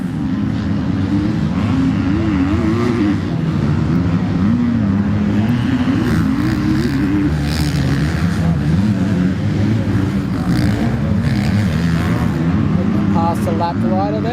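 250cc junior motocross bikes race past on a Cessnock track, their engines a constant loud, buzzing roar that swells and shifts in pitch, with someone commentating throughout.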